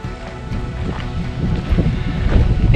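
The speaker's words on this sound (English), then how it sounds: "It is pretty windy today." Strong, cold wind buffets the microphone at a gorge in the West MacDonnell Ranges, a loud, rumbling rush that swells and gusts with no one speaking.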